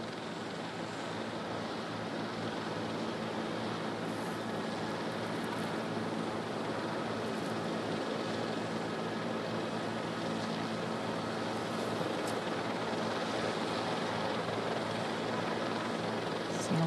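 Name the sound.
JetBlue Flight 292 airliner landing with nose gear pointed sideways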